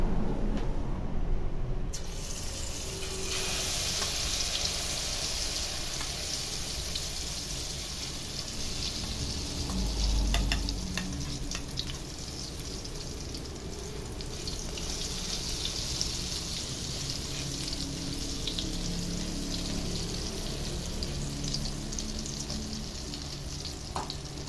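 Okoy, banana heart fritters, deep-frying in hot oil make a continuous close sizzle, an even crackling hiss that holds steady for the whole stretch without any talking.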